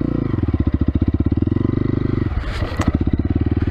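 A Kovi Lite 2021 motorcycle with a six-speed gearbox runs while being ridden. The engine chugs in a fast, even pulse, with a brief clattery shift partway through before the throbbing resumes.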